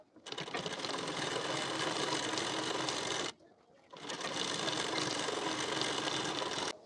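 Sewing machine stitching along a folded two-inch blouse waistband strip: a steady close whirring run, a brief pause, then a second equally loud run.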